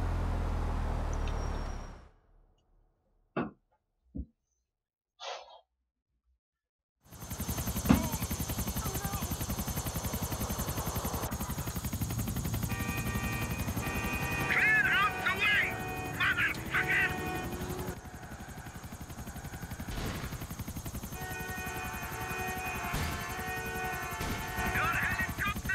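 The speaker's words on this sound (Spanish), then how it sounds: "sube al helicóptero Yusuf" Helicopter rotor and engine drone in the video game GTA 4: The Ballad of Gay Tony, a steady loud roar after a short quiet stretch with a few brief clicks, joined later by high game effects.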